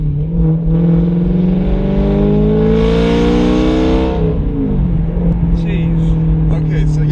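Car exhaust fitted with mufflers accelerating hard, a loud rising engine roar that sweeps up in pitch, peaks mid-clip, then settles back into a lower rumble with some faint background voices.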